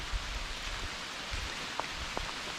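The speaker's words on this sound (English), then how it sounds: "but it's raining pretty good" Rain falling steadily outdoors near a mountain summit, a faint even hiss with a few soft drip-like taps, quiet and with no voices.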